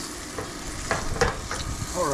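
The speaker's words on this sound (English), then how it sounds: "We're just gonna let them sit cooking in this oil. Let it fry up." Fish pieces from a Florida canal catch frying in oil, with a continuous close sizzle and a few crackling pops spaced through the short stretch.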